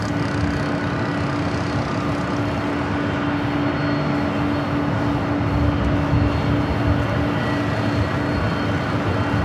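A United Airlines Boeing 737 MAX 8 arriving at LAX from San Francisco: a continuous, fairly loud jet engine rumble with a steady whine running through it, and no speech.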